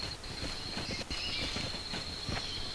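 Horse hooves clip-clop in a steady trotting rhythm in the video game Ylands, over a constant high-pitched tone and background hiss, moderately loud, with no talking.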